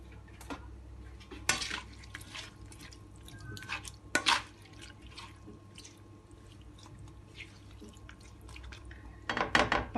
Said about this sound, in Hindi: अब मैं इसके अंदर 3/4 कप वाटर डालूँगी।